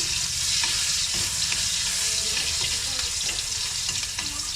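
Ginger frying in hot oil with garlic, a steady broadband sizzle with stirring clatter throughout, close and fairly loud, no talk.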